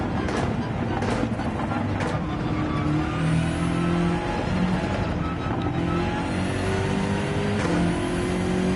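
Race car engine in Gran Turismo 7 at Watkins Glen, running on hard tires, drones steadily with rising and falling pitch as it accelerates and shifts, loud and continuous throughout.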